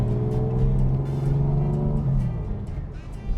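A 1962 Jaguar E-type Series 1 coupe with a 3.8 liter engine pulls hard on a farm road, its steady loud drone holding near and dropping in pitch as it shifts gears, with a voice talking over it.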